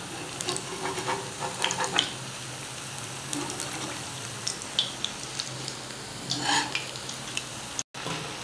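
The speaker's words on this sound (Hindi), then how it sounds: "इसको तकरीबन 2 से 3 मिनट हमने इसको ऐसे उलट पलट करके स्लो फ्लेम पर फ्राई करना है" Dahi bara dumplings of lentil batter frying in hot oil on a low flame, a steady busy sizzle with crackling bursts and occasional stirring clinks, close and continuous throughout.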